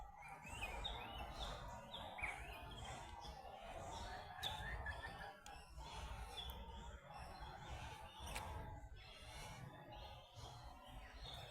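Small birds chirping and tweeting in Capalaba Regional Park, scattered short calls over a steady outdoor background hum, moderately distant and fairly faint.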